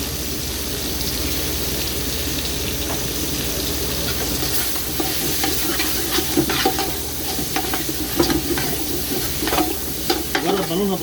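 Food fries in oil in a pan with garlic in it, giving a loud continuous sizzle close by. Scraping stirs and clatters grow busier toward the end, with no talking.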